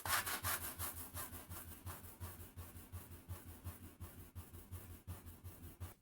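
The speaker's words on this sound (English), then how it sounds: "I'm now just going to sand it all back down" Rhythmic back-and-forth sanding on a small wooden tablet stand, steady rasping strokes about three per second, close but fairly quiet and alone.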